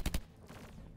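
Fire bolts shot in the roguelike game M.O.O.D.S: two quick, loud bursting blasts in fast succession at the start, then a quieter sustained rumble of game effects.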